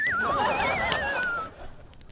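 A donkey brays in one loud, close call of about a second and a half, rising and falling in pitch, with no other sound around it.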